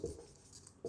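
Marker or chalk scratching across a board in a math lesson on whole numbers, a short run of writing strokes close by, fairly quiet, ending with a louder stroke and no talk.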